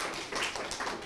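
Children clapping together on a Turkish kids' game show, a quick burst of dense, overlapping handclaps that is close and fairly loud, with no talk over it.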